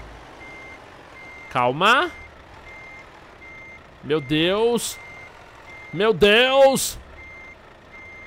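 A truck reversing, sounding three loud bursts of warbling, rising reverse beeps with pauses between them, while a man exclaims nervously in the gaps.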